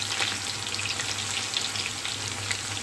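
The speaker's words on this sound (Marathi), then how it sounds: "आपण लसूण घालूया. चांगलं लसणाला ठेचून घेतलेलं आहे." Crushed garlic hits hot oil that already holds curry leaves and a green chilli, giving a steady, close, continuous sizzle with no talking.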